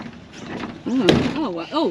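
The rear door of a car is pulled open with a sharp clunk in the middle, while people talk close by before and after it.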